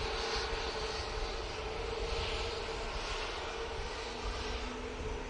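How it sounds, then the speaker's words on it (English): ATR 72 turboprop arriving from Dublin at Manchester Airport, a low, steady engine drone with a sustained propeller tone, moderately distant and unbroken. "Coming in from Dublin, using the ATR 72."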